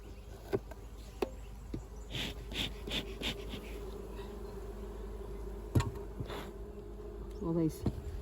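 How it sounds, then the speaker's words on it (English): Mud wasps buzzing around beehives in an apiary during feeding and winter preparation: close, intermittent buzzes and light taps rise over a low, steady insect hum, with no speech. "All these mud wasps still there."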